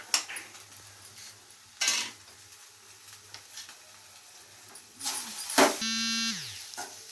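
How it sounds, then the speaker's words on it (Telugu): Maggi noodles with chopped coriander being stirred in a pan, with spatula scrapes and clinks over a faint sizzle, a louder burst of stirring near the end, and a brief buzzing tone. "ఇప్పుడు బాగా మిక్స్ చేయండి మొత్తం."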